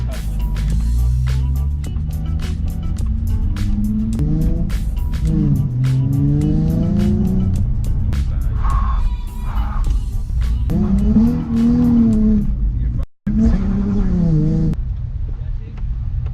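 Nissan 350Z engine bangs against a 2-step launch rev limiter, loud, close and harsh, with stuttering bursts and rising revs and a brief cut near the end, while people talk over it.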